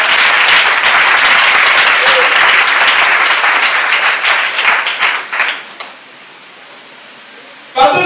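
Church congregation applauding loudly and steadily to acclaim the Lord, a dense wash of clapping that thins and fades out, followed by near silence and a brief burst at the end.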